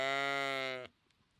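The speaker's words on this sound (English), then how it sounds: "This is our flerd of goats and sheep, and their job is to help eat down all the invasive plants in this field." Goats and sheep from a grazing flock used to clear invasive plants in a field give a single loud, steady bleat lasting most of the moment, then cut off into quiet.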